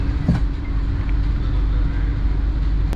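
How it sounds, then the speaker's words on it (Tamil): A Vande Bharat train rolls into Kovilpatti station with a steady, loud low rumble and faint rail clatter, plus a brief high squeal near the end. "இப்போ ட்ரெயின் வந்து கோயில்பட்டி ஸ்டேஷனுக்குள்ளே என்ட்ரி ஆகுது"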